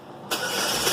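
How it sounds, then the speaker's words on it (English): A 2011 Chevy Equinox, being checked for an intake and exhaust valve solenoid fault, cranks and catches in about a second, the engine noise jumping up loud and staying steady. "Crank it up again."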